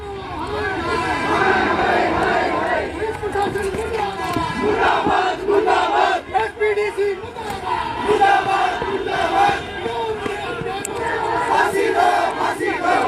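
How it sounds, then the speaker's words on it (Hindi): A large crowd of sanitation workers marches and chants slogans demanding a hanging outside the civil hospital in Hisar, loud rhythmic shouting with dense crowd noise throughout. "ये सफाई कर्मचारी फांसी दो के नारे लगा रहे हैं।"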